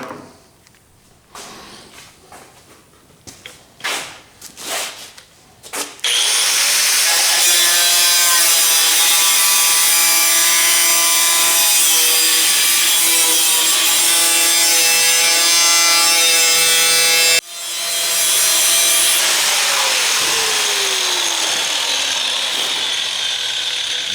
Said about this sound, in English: we're going to cut this section out here, and that'll be the removal of that cab corner